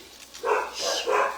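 Dogs barking in a quick series of three short barks, somewhat muffled as if from a nearby yard.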